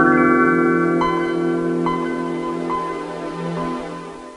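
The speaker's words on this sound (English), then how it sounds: "Ah yes, the Windows 95 startup." Windows 95 startup sound: a lush, sustained synthesized pad chord with shimmering chime-like accents ringing in every second or so, loud and alone, slowly fading over about four seconds.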